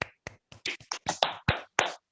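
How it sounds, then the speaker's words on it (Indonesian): Group clapping in a classroom for a student team: about eight sharp, separate claps spread over two seconds, close and fairly loud, with uneven spacing and short silences between them. "tepuk tangan untuk kelompok 3"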